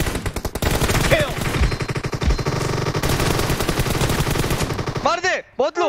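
Dense, rapid gunfire crossfire in PUBG Mobile on the Miramar or Sanhok maps, with overlapping bursts of automatic shots that continue steadily throughout, ending in a few sharp isolated reports near the close.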